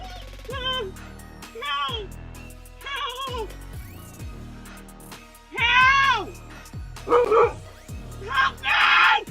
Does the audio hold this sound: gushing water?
no